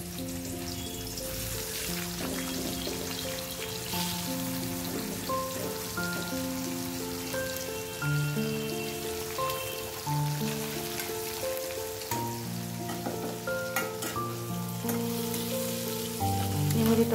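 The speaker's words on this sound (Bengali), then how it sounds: "আর এই যে এই কড়াইটার মধ্যে তেল দিয়েছি, আর এই যে ভাজিগুলো ভাজবো" Vegetable pieces rubbed with salt, sugar and turmeric fry in oil in a kadai, a soft continuous crackling hiss that runs under steady background music.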